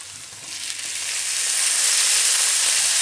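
Chopped tomatoes and onion frying with garam masala in a pan for tadka dal, a steady close sizzle that swells louder as the tomatoes hit the hot oil, with no talking.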